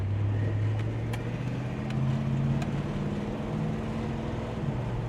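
Classic car cruising along Saguaro Boulevard on a warm day, a steady low engine hum and road rumble holding throughout with no voices.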